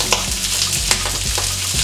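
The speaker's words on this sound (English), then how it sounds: "I'm gonna be frying my kale." Kale fries in a pan with a bright, crackling sizzle, punctuated by a few quick stirring scrapes and pops at close range.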